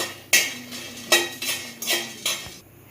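A spoon strikes and scrapes a metal pan as whole spices such as black pepper, garlic, cardamom, cinnamon and cloves are roasted and stirred. Four or five sharp clattering scrapes come in a loose rhythm, close and clear, with no talking.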